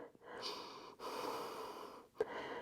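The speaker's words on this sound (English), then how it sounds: "Perhaps you're breathing heavily like I am." Heavy, sustained breathing after a strong vinyasa yoga flow, close and steady with long airy exhales, a brief pause near the middle and a sharp short catch toward the end, no talking.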